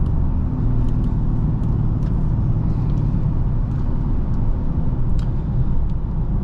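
A 2022 Dodge Charger Scat Pack with the 392 engine on a test drive, heard from inside the cabin as a loud, steady low engine rumble and road drone with faint ticks, with no voice.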